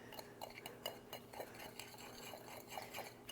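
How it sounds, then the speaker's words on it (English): A whisk clicks and taps against a bowl as dry spice rub ingredients, including coconut sugar, are mixed together for baby back ribs, with quick, faint, rhythmic strokes close by. "And just whisk this all together so that it's nice and combined."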